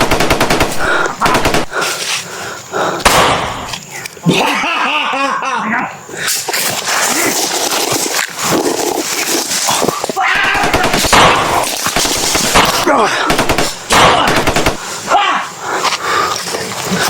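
Rapid bursts of video game gunfire, loud and close, rattle through much of the scene in a survival shooter, with excited voices talking and shouting over the shots.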